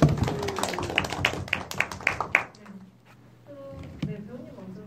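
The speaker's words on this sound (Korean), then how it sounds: "감독님께 박수를 한번" Audience at a Korean film screening talk event gives the director a short burst of clapping that fades out, followed by quiet room sound and a voice speaking.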